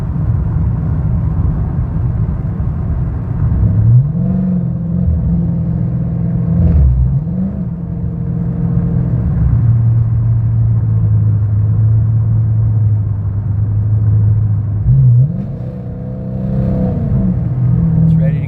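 A 2013 Dodge Charger R/T with a 5.7L Hemi V8 drives along with a steady, loud low rumble, rising and falling through several accelerations and gear changes.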